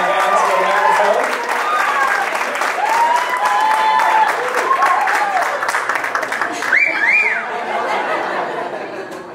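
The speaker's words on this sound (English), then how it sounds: "Let's give Sarah a big round of applause" Wedding guests at a beachside reception clap steadily for the mother of the groom, dense applause mixed with chuckles, laughter and chatter, with a voice speaking over it near the end.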